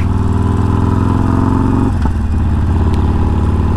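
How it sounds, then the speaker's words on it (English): A Harley-Davidson 48 motorcycle engine revs loudly and steadily close by, its exhaust note rising and dipping briefly midway before settling back into a rough, throaty idle. "that exhaust sounds so good"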